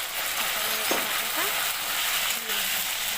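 Ginger and green chilli fry in a pan with a steady, fairly loud sizzle and a few faint stirring sounds, without anyone speaking over it.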